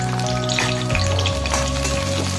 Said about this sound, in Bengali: বেশ কয়েক কোয়া আদাও কিন্তু একই সাথে ভেজে নিচ্ছি।